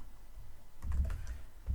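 Typing on a computer keyboard while entering values into an Excel spreadsheet cell: a quick run of close, soft key clicks after a quiet start, with a second short burst near the end, no voices.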